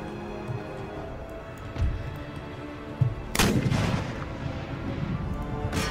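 Artillery thuds in the Empire Total War battle game, with scattered cannon booms followed by a heavier volley of gunfire, mid-distance and loud.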